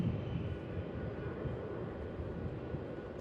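A Fiji Airways Boeing 737 at Melbourne Airport, its engines giving a steady, broad roar that is fairly distant and continuous, with wind noise mixed in.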